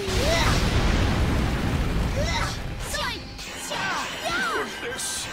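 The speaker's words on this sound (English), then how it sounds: "Usagi Mega Explosion!" In Disgaea 6 on PS5, the Usagi Mega Explosion attack crashes in with a loud booming burst. Rumbling debris and chirpy whooshing effects follow as it decays over several seconds.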